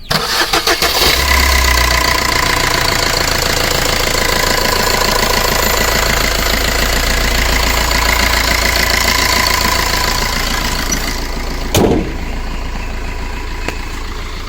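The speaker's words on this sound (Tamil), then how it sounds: "வண்டியோட இன்ஜின் சவுண்ட் எப்படி இருக்குது அப்படின்றத கேட்போம்" A 2014 Maruti Swift VDI diesel car engine cranks and catches about a second in, then settles into a loud, steady, close-up idle with a brief sharp knock or transient near the end.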